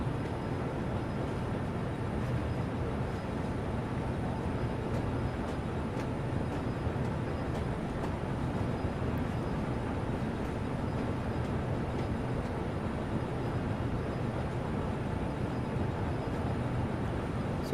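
A Class 66 diesel locomotive engine in the Train Sim World 3 game, a steady low rumbling drone with constant rolling noise throughout, unchanging and fairly quiet, with no talk.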